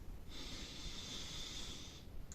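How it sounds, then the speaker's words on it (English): One long, steady nasal sniff of a slice of brown bread, close and fairly soft, lasting about two seconds against a quiet low rumble. "Big sniff like that."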